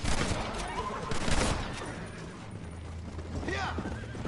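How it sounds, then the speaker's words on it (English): Gunfire in the Western video game Red Dead Redemption comes as a burst of sharp shots with horse hoofbeats and a whinny mixed in. Game sound and voices play throughout. "why is John shooting?"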